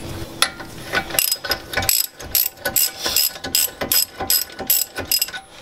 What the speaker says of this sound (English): So now all you have to do is thread them evenly going back and forth and then just torque it down to 98 foot-pounds.